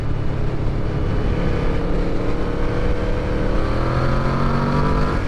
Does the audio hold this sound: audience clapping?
no